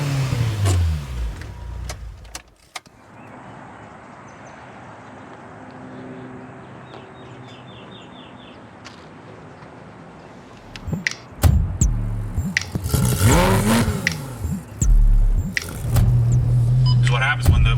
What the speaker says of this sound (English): Always courtesy rev.